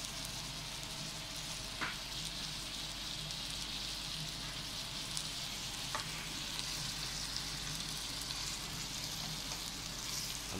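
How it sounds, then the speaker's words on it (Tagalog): Marinated chicken breast frying in a pan for chicken menudo, a continuous dense sizzle with occasional scraping stirs, close and steady without talk. "Halu-haluin natin guys hanggat maluto yung chicken breast."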